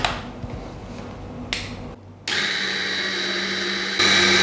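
A Blendplus Mini slow juicer pressing pomegranate: a few handling clicks and knocks, then a steady electric motor hum starts and grows a bit louder and denser toward the end, with no talking.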